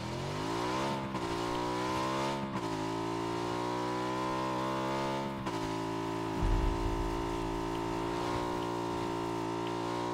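Motorcycle engine in the PUBG video game, a steady, loud harmonic drone with a few rising revs and brief dips, heard close and continuous throughout.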